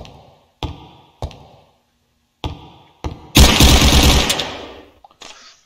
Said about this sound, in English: Fire the pistol as many times as you'd like.